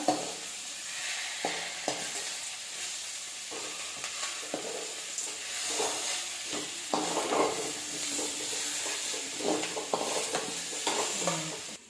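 Ingredients being stirred and lightly sautéed in a pan while making kambu (pearl millet) flour adai, with a steady sizzle and repeated scraping strokes of the spoon, close and moderately loud, with no talk.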